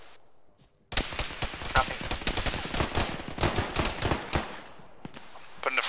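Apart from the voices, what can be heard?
machine gun fire from shooters in ArmA military game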